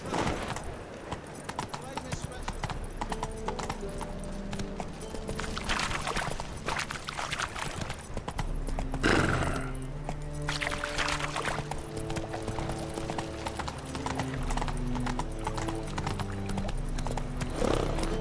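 Roach the horse trots along in The Witcher 3, hooves clip-clopping in a steady rhythm for a long stretch while music and a spoken voice play over the top.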